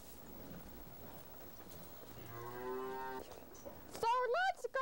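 Cows on a barnyard farm give a couple of long, harmonic moos, one drawn-out low call followed by a louder, wavering one near the end, over faint outdoor background.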